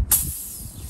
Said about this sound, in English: when you open this, it will spray fuel all over the place